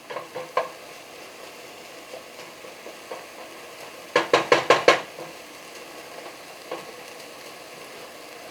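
Ingredients for chicken alfredo cooking down in a pan over lowered heat, a soft ongoing sizzle broken by a quick cluster of sharp utensil knocks and scrapes against the pan midway, with a few scattered taps elsewhere.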